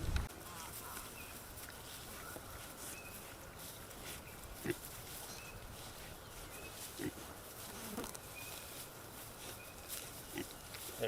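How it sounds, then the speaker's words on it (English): Pastured pigs being moved, with faint grunts and rustling scattered over a steady insect-like buzz in an open outdoor setting, quiet and distant throughout. "So we're going to try to move the pigs now."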